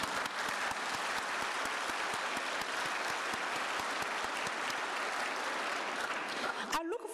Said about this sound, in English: I propose that we give a special round of applause to warmly welcome the students